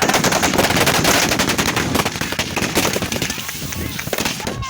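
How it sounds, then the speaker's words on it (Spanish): Rapid bursts of automatic fire from an M60 machine gun, dense and loud, followed by more scattered Galil rifle shots that thin out toward the end. "Los primeros disparos que se escuchan en este video corresponden a una ametralladora M60, seguida por disparos de fusil Galil"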